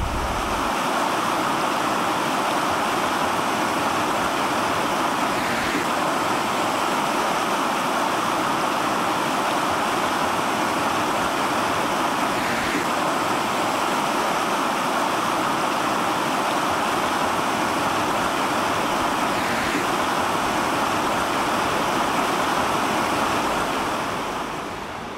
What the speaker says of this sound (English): at those railings there, the water's flowing back up and every so often it surges this way